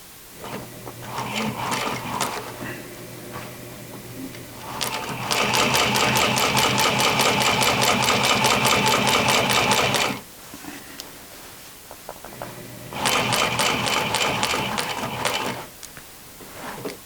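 A sewing machine stitches jeans in two loud, steady runs of several seconds each, with quieter mechanical clicks and handling sounds before and between them, close to the listener.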